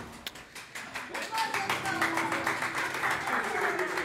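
An audience claps at a literary cabaret, starting as a few scattered taps and swelling into fuller, steady clapping, with voices murmuring underneath.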